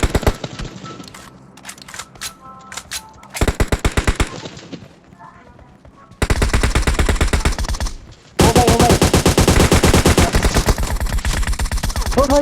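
Rapid automatic gunfire in a battle royale shooter's final-zone squad fight, with bursts starting and stopping, then turning into loud, continuous sustained fire through the second half.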